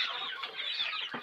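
A desi hen clucks in a short, close burst of rapid mid-pitched calls on a small farm where hens are laying eggs, with a slightly louder note right at the end.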